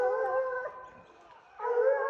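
Hunting dogs howl in a French forest during a hunt, a sustained mournful wail that dips quieter midway and then rises again, loud and near-sounding, with no talk.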